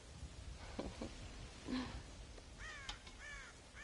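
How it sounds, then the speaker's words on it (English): Crows caw in the video game Red Dead Redemption, a handful of harsh calls spaced apart over a low rumbling ambient bed, several close together near the end, with no talk. "God damn crows!"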